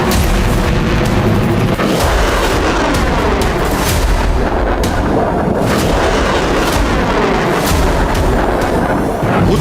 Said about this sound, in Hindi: हूती विद्रोहियों ने 2000 किलोमीटर दूर से इजराइल की तरफ मिसाइलें दाग दी और मिसाइल हमले का वीडियो भी जारी कर दिया।